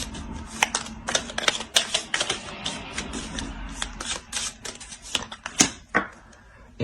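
Tarot cards are shuffled by hand at close range, giving a rapid stream of crisp papery flicks, riffles and soft slaps in uneven bursts.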